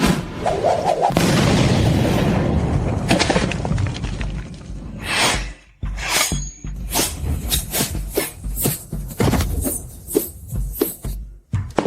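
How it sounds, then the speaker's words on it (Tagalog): Loud booming blasts and crackling bursts, a dense roar at first, then a rapid series of sharp separate bangs. "Heto ang inyong pre-dinner fireworks."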